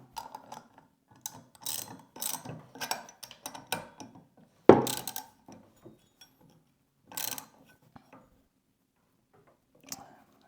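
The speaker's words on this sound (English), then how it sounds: "I just need to tighten this down with the socket" A socket wrench ratchets as a bolt is tightened on a DIY ice fishing track sled, with bursts of close, clicking pawl strokes separated by pauses, one sharp clank midway, and no talking.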